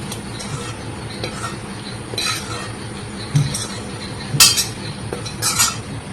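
A spatula scrapes and clinks against a pan while lifting out fried onions, with a low steady sizzle underneath and a few sharper metallic taps near the end.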